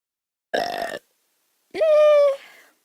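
Two loud, close burps in quick succession, the first short and gravelly, the second longer and more tonal, with silence around them, heard during a livestream of the sword-fighting game Half Sword.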